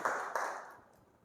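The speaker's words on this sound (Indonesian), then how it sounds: "Tepuk tangan buat kelompok" A short burst of classroom applause for a student group, two quick clap swells that fade out within about a second, fairly faint and without talk.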